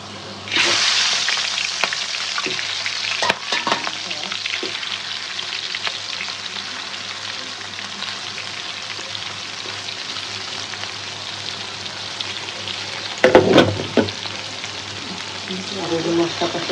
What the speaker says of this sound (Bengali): চিংড়ি মাছ একটু হলুদ লবণ মাখলেই সুন্দর বনে মাছটা ভাজছে